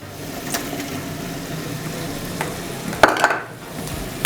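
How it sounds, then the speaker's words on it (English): Tomatoes with garam masala and spices fry and are stirred in a pan for chicken pulao, giving a steady close sizzle with scraping strokes of a spoon and a few sharper clinks near the end. "దీన్ని కొంచెం స్టర్ చేసుకుందాం, మంచిగా మిక్స్ చేసుకుందాం దీన్ని."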